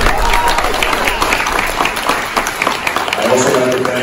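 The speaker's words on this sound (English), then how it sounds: "Let's give him a round of applause." Loud, close audience applause for Jared, a dense sustained wash of many hands clapping, with crowd noise mixed in, continuing without a break.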